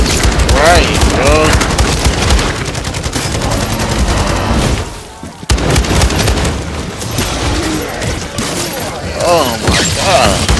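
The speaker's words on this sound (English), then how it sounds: "Another mega bomb," Dense Call of Duty combat, with sustained gunfire and a heavy bomb explosion. Loud continuous shooting is broken by a brief lull midway, then the firing resumes with bursts and booms.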